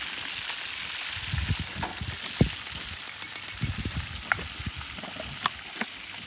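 Mojarra fish fry in hot oil, a quiet, steady crackle and sizzle with scattered sharp pops and spits throughout.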